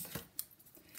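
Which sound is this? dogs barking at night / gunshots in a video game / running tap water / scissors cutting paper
scissors cutting paper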